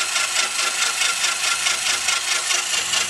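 A carbide cutter on a Q88E line boring machine grinds steadily through a bore lubricated with WD-40, making a continuous close-up rasping, scraping hiss that holds its level throughout, with no voices.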